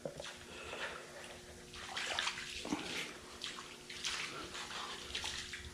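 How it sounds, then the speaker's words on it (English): Water splashes and runs across a floor being wetted down before painting a car fender, a continuous moderate hiss with small surges and sloshing bursts, fairly close and alone. "just wet the floor down a little bit"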